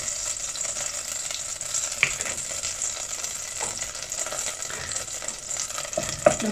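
Butter melting into a tablespoon of olive oil in a pot, giving a steady, soft sizzle with a few faint clicks and pops throughout, no voices.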